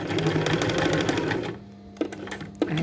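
A sewing machine runs steadily as it stitches the placket of a shirt cuff, then stops, followed by a couple of faint clicks and small adjustments near the end.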